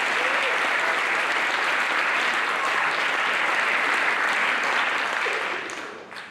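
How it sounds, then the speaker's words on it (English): Sustained applause from a banquet audience honoring a high school boys cross country team, a dense steady roar of many clapping hands that tapers off near the end. "Let's have a round of applause for the boys cross country team."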